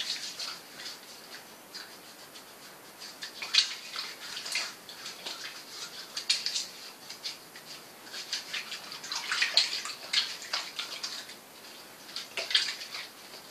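Hot water from a tap runs steadily for handwashing, a faint, continuous trickle with scattered splashy bursts and no talk over it.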